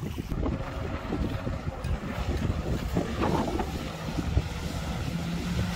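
A Solar-470 R water-jet RIB boat, built of HDPE and PVC, runs under outboard motor power, giving a steady mid-level engine drone mixed with wind and water rush.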